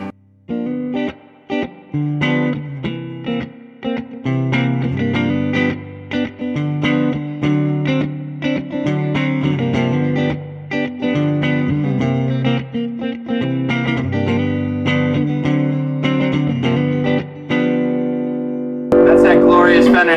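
Electric guitar chords and single notes ring out through a 1965 Fender Super Reverb amplifier's heavy reverb, the tails washing together, ending with a brief loud swell.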